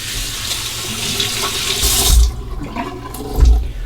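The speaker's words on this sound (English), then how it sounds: "Now we'll perform a final rinse," Cold water runs steadily from a tap for a final rinse after a straight-razor shave, splashing into a sink with a couple of louder gushes as the flow hits something.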